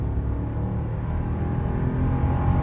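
A car accelerating hard through a 0 to 100 km/h timed run, its engine giving a steady, loud, close rumble that builds slightly in strength, with no talk.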